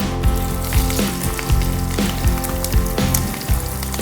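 Chopped onion drops into hot oil tempered with spices and fries in a loud, close sizzle, with regular stirring knocks against the pan giving a steady rhythm.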